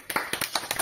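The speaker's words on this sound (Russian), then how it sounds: "воодушевившись вашими аплодисментами" A handful of quick, crisp hand claps at a birthday celebration, about five sharp claps in under a second with no talk.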